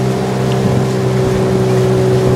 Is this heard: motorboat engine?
yes